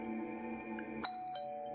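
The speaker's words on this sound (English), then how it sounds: "Oh, I can put the battery so I can ring the bell" In the horror video game Bad Dream: Graveyard, a doorbell rings with a bright two-tone chime, heard once and fairly quiet over a steady low ambient hum.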